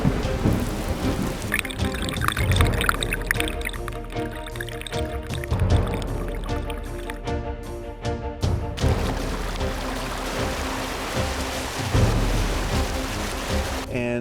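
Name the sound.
heavy rain storm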